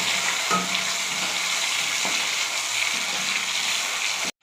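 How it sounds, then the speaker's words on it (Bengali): Potatoes fry in hot oil until browned red, a loud, dense, steady sizzle with a few soft stirring knocks, cutting off abruptly at the end. "আলুগুলো এখন ভেজে নেবো লাল করে।"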